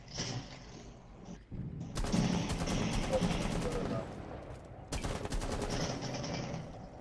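Rapid bursts of automatic gunfire in Rainbow Six Siege, a loud sustained volley with a short pause before a second burst, mixed with game clatter and voices talking over it.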